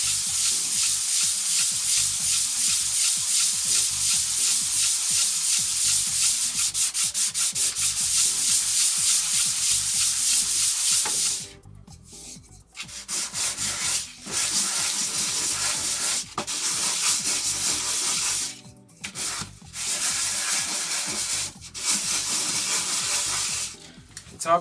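Hand sanding with 240-grit sandpaper smooths the edges of a workshop blast gate for a dust extraction system, giving a loud, continuous scratchy rubbing that breaks into repeated short strokes with brief pauses in the second half.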